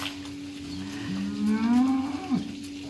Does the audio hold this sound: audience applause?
no